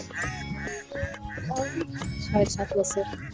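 Several Khaki Campbell ducks on a duck farm quack repeatedly and close by, overlapping in a busy chatter, with a voice speaking among them.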